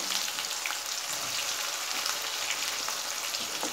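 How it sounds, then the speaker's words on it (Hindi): Cut potatoes frying in a pan give off a constant, close, crackling sizzle with a bright hiss and faint stirring, steady throughout with nobody speaking. "अब हम इसमें काटे हुए आलू फ्राई कर लेंगे"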